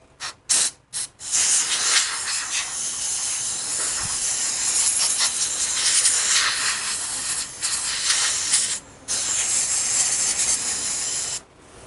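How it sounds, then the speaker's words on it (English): An air compressor blows compressed air during work on a Panhead clutch hub, starting with a few short bursts, then a long steady hiss broken by brief pauses. "Need to activate the compressor."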